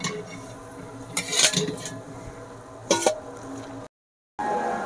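A spatula scrapes and lifts a fried masala paratha off a hot tawa, giving two short metallic scraping bursts over a low kitchen background, with a brief dropout near the end.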